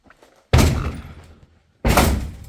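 A trailer door on an abandoned property slams shut twice, each a loud, close, heavy metallic bang with a rattling decay, the first ringing on for about a second before the second hit.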